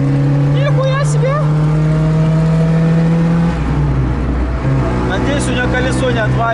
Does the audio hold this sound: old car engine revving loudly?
yes